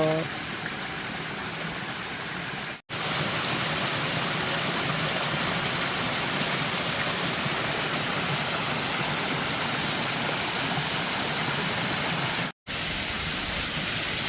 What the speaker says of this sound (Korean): 내려가는 길에 여러분들에게 폭포를 보여드리겠습니다.